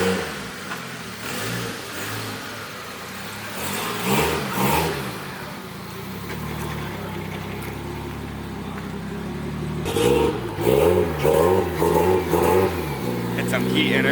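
Nissan Silvia with a 1JZ engine warming up, revving up and down in repeated bursts close by, with someone talking over parts of it.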